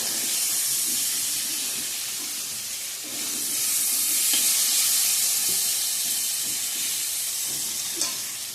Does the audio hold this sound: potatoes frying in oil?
yes